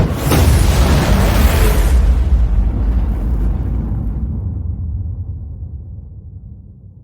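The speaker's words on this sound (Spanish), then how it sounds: "una aterradora explosión sonó desde atrás y todo el edificio se estremeció" A terrifying explosion booms loud and close, a broadband blast that shakes a building, then rolls into a long, heavy rumble that slowly fades over several seconds, with no voices.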